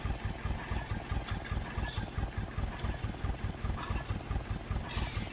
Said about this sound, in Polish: Posłuchajcie sobie głos silnika.